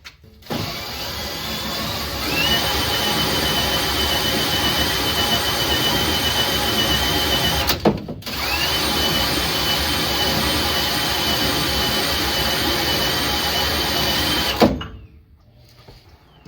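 A rebuilt 2018 Chevy Bolt differential spins in one direction and then the other in two long runs of loud, steady mechanical whir and whine. A brief stop with a clunk falls between the runs, and the sound cuts off near the end.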